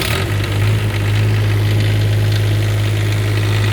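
A generator engine runs loud and steady at a close distance, holding a constant low hum with mechanical vibration and no talk over it.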